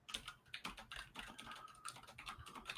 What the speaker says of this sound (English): Nope, I'm typing right here.